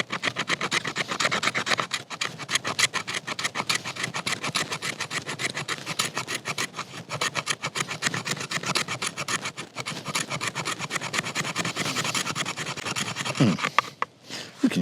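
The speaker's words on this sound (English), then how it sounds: "Let's just see if it'll scrape some fat wood." The spine of an SOG throwing knife scraping fatwood in quick, continuous rasping strokes that stay loud and close, with a brief pause near the end.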